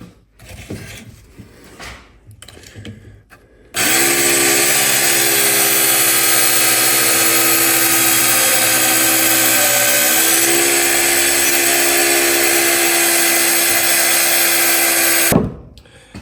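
A Work Sharp powered sharpener grinds the blade of a Swiss Tech axe from Walmart, a loud, steady mechanical whine holding for about eleven seconds after some brief handling noises, then cutting off abruptly.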